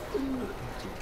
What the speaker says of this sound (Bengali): এটা হলো হুমা কবুতর